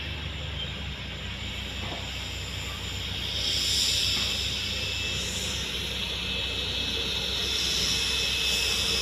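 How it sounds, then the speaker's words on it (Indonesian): An airplane at Oksibil airport in Papua sounds as a steady hissing jet whine with a high tonal edge that swells midway, heard from a terminal area with faint background noise and occasional voices. "Oh, ada lagi pesawat yang masuk."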